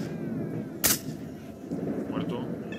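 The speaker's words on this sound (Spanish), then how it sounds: "Así también como fallar todos estos tiros." A single loud gunshot rings out in the S.T.A.L.K.E.R. shooter game, a sharp broadband crack over a steady rumbling background with a faint voice murmuring beneath.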